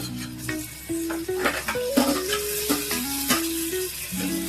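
Chopped tomatoes go into a hot pan and sizzle as they are stirred with a utensil, giving scraping, clattering bursts near at hand while a tuneful melody plays underneath.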